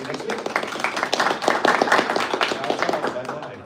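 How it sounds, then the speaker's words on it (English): A small audience claps for a panel at the close of a session, scattered hand claps swelling briefly then fading, with people talking over them. "Round of applause for everyone, and we'll see you next week."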